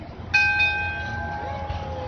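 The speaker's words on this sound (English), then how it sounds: "Ring that bell." A bell rings once with a bright metallic strike and a ringing tail that slowly fades, marking the start of a Halloween domestic animal race, with some background crowd noise.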